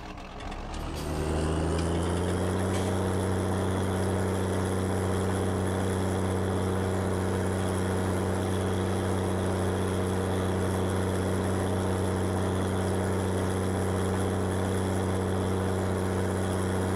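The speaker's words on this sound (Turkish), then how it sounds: "Ara gaz yapmadan duramıyorsun abi" A tractor engine in Farming Simulator 2019 starts up and settles into a steady, loud, droning hum that runs unbroken and close throughout, with no voices over it.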